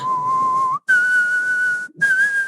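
A single person whistles the bright, steady melody of a song, held notes broken by two brief pauses for breath, close and clear with nothing else around.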